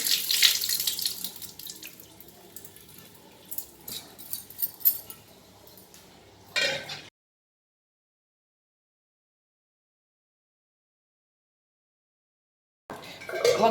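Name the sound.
water poured for rinsing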